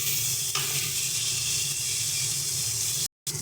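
Tomato frying in a pan with salt, a loud continuous sizzle with scraping stirring close up, cutting out briefly near the end.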